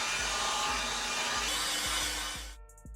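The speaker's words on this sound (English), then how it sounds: "I got this hair blower from my mom and she said she bought it before I was born" An old hair dryer, bought decades ago, blow-drying an Amazon wig: a steady loud broadband roar with a faint rhythmic ticking underneath, which cuts off abruptly near the end.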